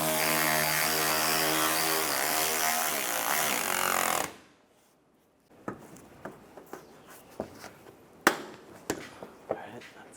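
A power tool runs in a sustained loud whir while tightening screws on a Chevrolet Cobalt clutch assembly, then cuts off, followed by scattered sharp clicks and taps of parts being handled.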